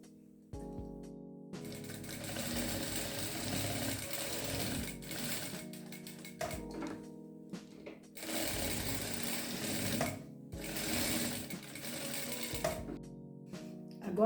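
A sewing machine runs a safety seam around the edge of a crazy-patchwork fabric coaster, whirring in several steady bursts with short pauses between them, close and fairly loud, with no talking.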